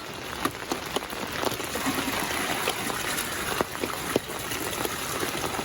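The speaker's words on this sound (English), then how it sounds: "I'm going to empty it out into a bucket." Maple sap collected from tree taps is poured out of a half-full bucket into another bucket, a steady close splashing trickle with scattered drips and small gushes, no talking.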